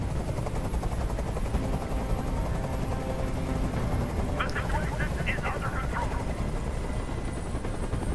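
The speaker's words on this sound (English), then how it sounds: "I can't stand that noise anymore. Tell that helicopter to get out of here." A helicopter hovers overhead in a Detroit: Become Human hostage standoff, its steady rotor drone filling the scene, with brief bursts of higher-pitched game effects partway through.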